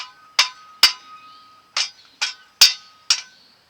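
Six sharp metallic taps ring out at irregular intervals as a shovel is used like a hammer in a garden, each a bright clink with a short ringing decay.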